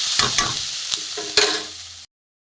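Turmeric, chili powder, cumin, coriander and ginger paste being sautéed in a pan, a steady sizzle broken by several sharp scraping stirs from a spatula, close and alone, ending abruptly.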